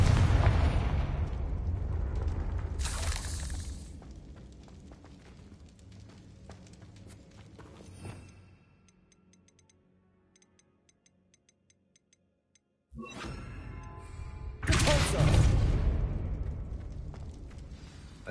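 Confringo blasting spell explosions in the video game Hogwarts Legacy, heard as loud booming bursts with crackling debris, then a quiet lull before another heavy blast with rumbling tail.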